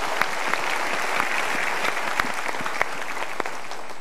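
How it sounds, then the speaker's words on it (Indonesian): Loud, dense applause from a seminar audience, a continuous wash of clapping with a few sharper claps standing out near the listener. "kita berikan tepuk tangan"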